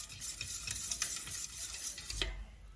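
Karantika batter being stirred and mixed by hand in a hot baking tray, a steady scraping, sloshing stir with faint sizzling underneath, close and continuous, with a brief louder knock near the end.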